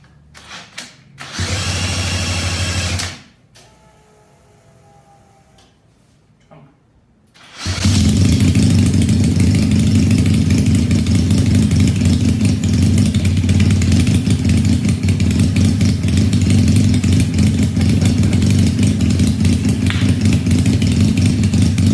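A brief cranking attempt and sputter give way to a supercharged, fuel-injected Honda CL175 motorcycle engine running on E85 roaring to life, then idling loud and steady close by.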